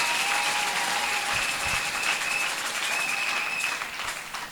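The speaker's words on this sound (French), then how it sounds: "Applaudissez pour la sœur Léontine" Applause breaks out for Sister Léontine at a church children's scripture skit, a steady broadband clapping from a gathered congregation that holds for several seconds before easing slightly at the end, with a faint tonal whistle running through it.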